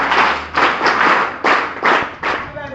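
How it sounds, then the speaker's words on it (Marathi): A school audience claps for a girl in several loud, dense bursts with short pauses between them, close and filling the room, with no talk over it. "तिच्यासाठी टाळ्या वाजवा."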